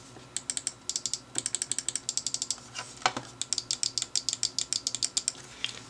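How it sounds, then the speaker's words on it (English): Crisp, rapid clicks from the main buttons of a Zowie FK Pro gaming mouse, fired off in quick rhythmic bursts of many presses with short pauses between runs, close and clear with no talking. "Now the clicking of mouse 1 and 2 are very satisfying"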